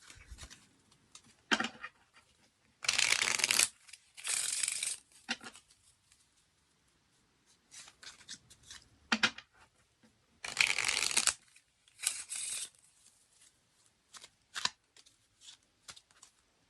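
Bicycle playing cards being shuffled in several separate bursts of riffling and shuffling, close and fairly loud, with quiet handling noises and pauses in between.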